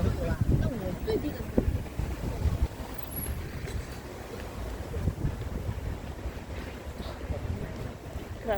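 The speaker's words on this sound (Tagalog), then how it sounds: "Grabe yung mahangin dito." Strong wind gusting across the deck of a ship at sea, a steady loud roar with buffeting against the microphone, along with faint voices talking.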